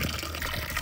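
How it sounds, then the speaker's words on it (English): Water poured into a toy baby doll, a steady close liquid trickle and gush running without pause through the short moment. "we're putting the water in the baby"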